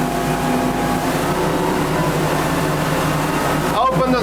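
Engine drone of a SilverCAT 34HT motorboat at cruising speed on the water, a steady loud hum with constant tonal layers throughout, and a brief burst of a person speaking at the end.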